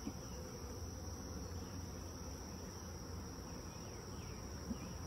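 Honey bees buzz around a swarm trap, a faint, steady, unbroken insect hum heard from a distance with no voices.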